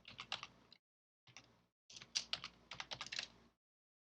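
Fast typing on a computer keyboard, close and fairly quiet, with quick bursts of clicking keystrokes separated by short pauses, the last run the longest and densest.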